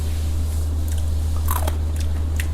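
Someone bites and chews a crispy topping on a mango smoothie bowl, producing a few close, sharp crunches over a steady low hum.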